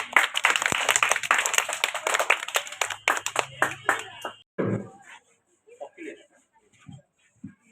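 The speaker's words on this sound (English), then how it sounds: "Clap your hand" An audience at a school prize announcement claps hands in a lively, crackling burst lasting several seconds, then stops abruptly, leaving a voice speaking with a few stray claps.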